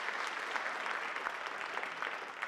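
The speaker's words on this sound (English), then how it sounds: "Let's give them a round of applause for all they do for Canyon School District." Audience applause at the Canyons School District Apex Awards ceremony, a dense, steady patter of many hands clapping in a large room, continuous and moderately loud with no talk over it.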